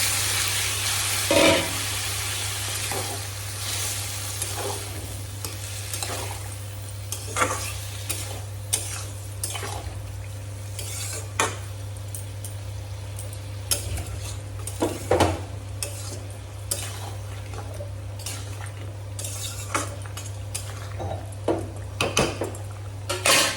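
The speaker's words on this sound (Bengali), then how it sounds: "সুন্দর করে নেড়ে চেড়ে নিলাম আর একটু জল দিয়ে দেবো অল্প করে।" A spoon stirs egg curry in a cooking pot, making irregular scrapes and clinks against the metal over a soft, steady sizzle that runs continuously through the background, with no voices.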